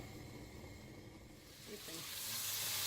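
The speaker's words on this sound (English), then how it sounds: "And the meat goes in with the oil." Meat frying in oil in a pan over medium heat, a soft sizzle that swells into a louder hiss toward the end of the brief moment.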